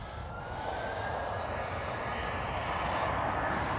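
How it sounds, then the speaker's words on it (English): Airbus A320 departing from runway 18 Left at Amsterdam Schiphol, a broad steady jet roar with a rising whine, held at even loudness at moderate distance. "there goes the fully wide A320"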